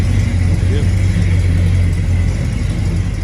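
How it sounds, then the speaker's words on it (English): A car engine rumbles loud and near with a strong steady low drone, holding an even idle-like growl for a few seconds with no clear speech over it. "Listen to the motor. It's absolutely amazing."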